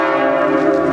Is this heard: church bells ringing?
yes